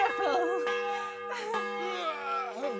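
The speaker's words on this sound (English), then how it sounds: "Really, I will ring the bell at night." A church bell rings at night in the medieval game Kingdom Come: Deliverance, its sustained, resonant tone hanging under character dialogue for the whole stretch.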